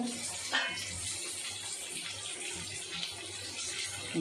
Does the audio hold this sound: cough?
no